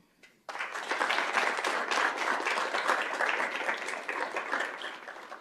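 Applause for school staff at a Peoria Unified governing board meeting breaks out abruptly and continues as steady, fairly dense clapping from a room of people, holding level to the end.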